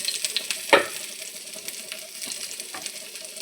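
Chopped garlic hits hot frying oil in a kadai, giving a sudden sharp sizzle that settles into a quieter, steady crackle with faint spatters, close and without voices.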